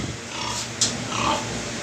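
A breeding sow grunts a few times close by in a pig barn while she waits for feed, with a steady farm background hum behind her.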